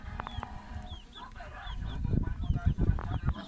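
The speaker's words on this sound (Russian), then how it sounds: "вот цыплятушки лежат" Chickens cluck and squawk close by in a traditional Filipino village setting, bursts of clucking growing louder and busier toward the end, with a few higher calls in between and no talk.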